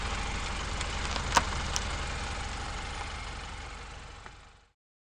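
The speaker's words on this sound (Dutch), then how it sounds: "Compacte auto." Compact car engine running steadily, a close, even idle with a couple of brief clicks, fading out near the end.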